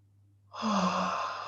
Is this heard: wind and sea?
no